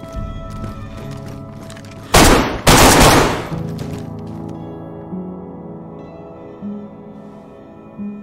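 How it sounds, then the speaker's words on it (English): Gunshots in the video game DayZ: two loud, sharp bursts close together, one after the other, standing out over a quiet musical and ambient background. "He tried to shoot me"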